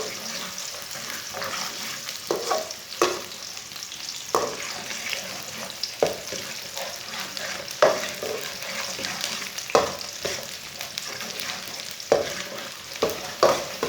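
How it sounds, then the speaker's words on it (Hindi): Chopped onions fry in a pan until light brown for a chana dal and spinach dish. A steady close sizzle runs throughout, broken by regular scraping stirs of the spoon. "प्याज को हल्का सा ब्राउन कर लेंगे। प्याज को फुल ब्राउन नहीं करना,"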